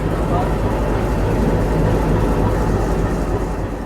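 Mongla local commuter train pulls out of Mohammadnagar station with a loud, steady rumble and broadband roar that holds throughout, voices faint beneath it.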